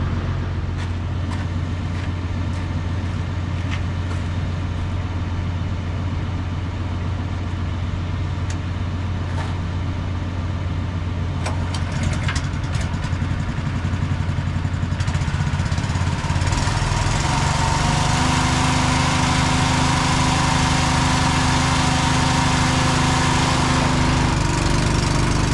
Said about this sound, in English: So I'm gonna pump my liquid fertilizer from my nurse tank into my applicator